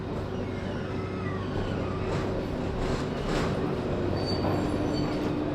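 Tenerife tram riding along the line, a steady close rumble of wheels on rails from inside the car, with a faint high squeal and passing rattles over several seconds, no talk.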